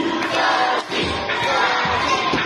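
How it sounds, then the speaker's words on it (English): Girls at a family-day event at Manila Ocean Park shout a cheer together, a loud, dense crowd of young voices yelling continuously with a brief dip partway through. "Come on girls, let me hear your cheer."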